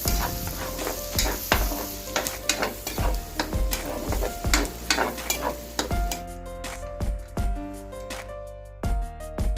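Pork dinuguan frying in a pan as ginger is stirred in, a steady close sizzle broken by frequent clinks and scrapes of the spoon against the pan, with no talking.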